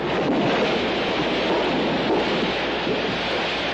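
Ocean surf at the seashore, heard where a memorial plaque honours those lost at sea, a loud, continuous roar of breaking waves mixed with wind buffeting the microphone.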